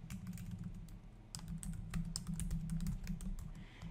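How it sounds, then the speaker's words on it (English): Rapid, steady typing on a computer keyboard, close and clear, with continuous light key clicks over a low background hum. "Type in the text that you'd like."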